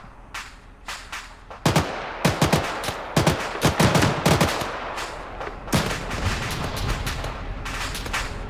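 Heavy battlefield gunfire in the video game Arma 3 during a convoy fight, bursts of machine-gun shots and single cracks of varied distance, loud clustered volleys over a rumbling background.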